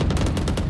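Video game gunfire: a fast, evenly spaced burst of automatic shots, loud and close, with about eight rounds in under a second.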